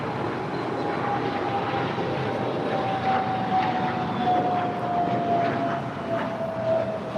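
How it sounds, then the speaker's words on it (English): A United Airlines Boeing 757-200 lands at Los Angeles LAX with a steady, moderately loud engine rush and a thin whine that slowly drops in pitch as it passes. "we just had United Airlines 515 coming in from JFK. It's a 757-200"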